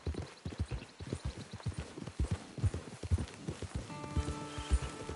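Horse hooves clip-clopping at a walk, a steady rhythmic series of close, distinct thuds, with a tonal hum entering near the end.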